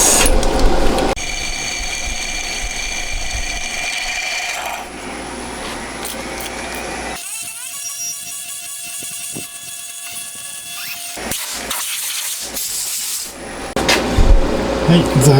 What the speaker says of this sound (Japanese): では長穴開けていきます。